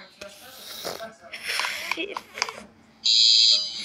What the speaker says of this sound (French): Fire alarme, c'est-à-dire alarme d'incendie.